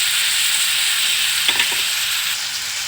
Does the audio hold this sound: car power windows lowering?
no